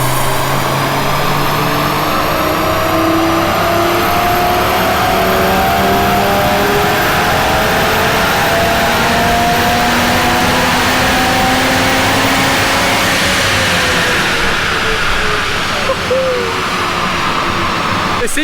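A modified JDM car with a Milltek exhaust and Revo carbon intake revs loudly at a Japfest show, its engine note climbing in sustained pulls, steady and near over outdoor crowd noise.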